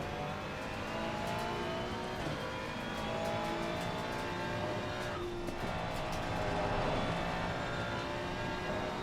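A McLaren race car in the sim racing game Assetto Corsa Competizione roars past, its engine note steady and loud over a continuous wash of racing noise for about nine seconds.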